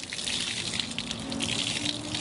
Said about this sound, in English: Now I'm wringing out any dirty water, any debris.